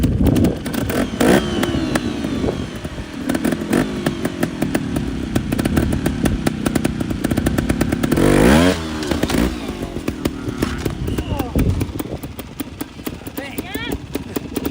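A trials motorcycle at an NATC trials event in California: the engine putters and blips in short bursts, then rises into one stronger rev, close by. Voices are heard around it.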